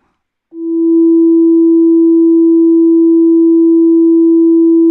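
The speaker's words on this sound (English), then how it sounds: "let's have a listen to the sine wave" A pure, steady synthesizer sine tone starts abruptly and holds at constant pitch and volume for several seconds before cutting off.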